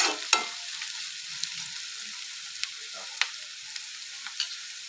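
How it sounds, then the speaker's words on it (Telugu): Green chillies and onions frying in hot oil for a mutton masala curry, a steady broadband sizzle with a few sharp crackles and pops spaced through it, close and alone without voices. "ఇప్పుడు ఆయిల్ హీట్ ఎక్కింది, పచ్చిమిర్చి అండ్ ఆనియన్స్ యాడ్ చేసుకోవాలి. ఆనియన్స్ మంచిగా ఫ్రై చేసుకోవాలి."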